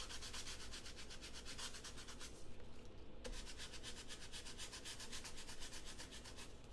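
Rapid back-and-forth sanding strokes scrape across cardstock paper in a steady close rhythm, with a brief pause partway through.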